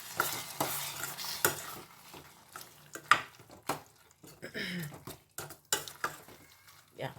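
A spoon stirs tomato curry in a pot, with repeated scraping and clinking against the metal over a soft sizzle and a few faint background sounds.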